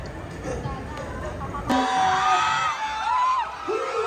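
A live crowd at a campus concert in the Philippines breaks into loud whoops and cheering, yelling rising over the sound system and a voice on the mic, sustained through the final seconds.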